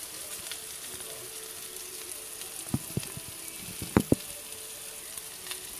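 Meatless ground crumbles sizzle in a frying pan for meatless spaghetti sauce, a steady hissing fry with a few sharp clacks and scrapes near the end, close and without talk.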